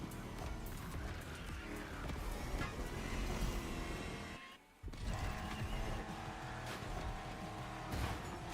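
A race car in The Crew Motorfest roars at high revs in fourth gear with traction control cutting in, joined by sustained tire squeal and a brief dip in the engine note midway, loud and continuous throughout.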